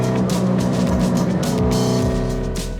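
A race car runs loud and steady with its exhaust fallen off, a continuous rough engine drone with shifting revs close by, no voices over it.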